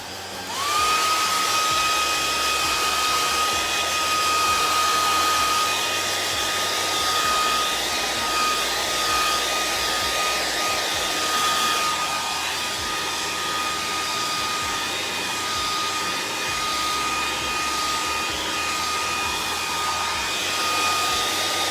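A heat tool dries a chalk transfer with a loud, continuous blowing whine, starting abruptly and holding steady for about twenty seconds.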